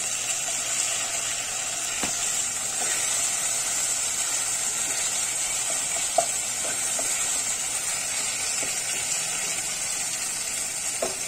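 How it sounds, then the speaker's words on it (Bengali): Ginger paste with a little sugar fries in a pan, giving a steady close sizzle and hiss with a few light clicks of stirring throughout. "আমার আদা বাটা কষানো হয়ে গেছে"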